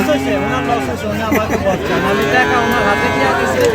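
Cattle moo and low over a busy livestock market din, with people talking and chattering close by throughout.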